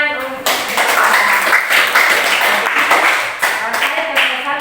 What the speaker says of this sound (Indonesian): Iya, tepuk tangan untuk